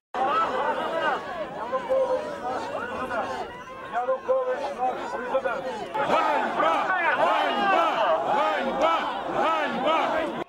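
Party deputies shout at a rally on a town square, a crowd of raised voices and chanting overlapping in loud, surging bursts that swell stronger in the second half, with speech mixed throughout.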